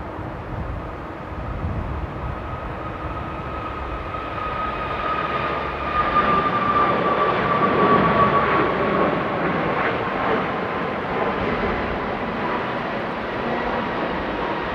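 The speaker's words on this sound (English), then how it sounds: "we got a Norwegian 737 rolling on runway 27 for the takeoff" A Norwegian Boeing 737 takes off on runway 27 at Amsterdam airport in rain and strong winds, its engines a sustained distant roar with a rising whine that swells midway and then holds steady.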